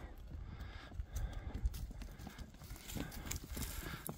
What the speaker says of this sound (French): Et voilà nos mules qui passent, enfin nos ânes qui passent.